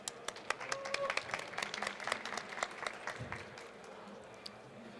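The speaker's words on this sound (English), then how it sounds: "A round of applause for her, please." Clapping from the audience at a startup event, a moderately distant patter that thins out toward the end, with some background voices mixed in.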